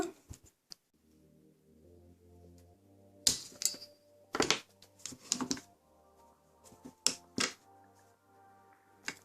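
Sharp, quiet snips and clicks of an acrylic resin nail tip being cut, scattered irregularly over a soft tonal background hum with no talking.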